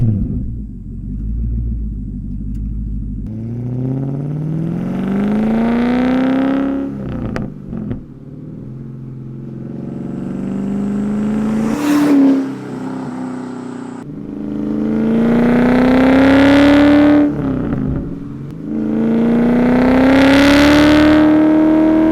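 A Porsche 928 GTS V8 engine revving and accelerating through several gear pulls, loud and close, with deep rumbling rises in pitch and brief drops between shifts.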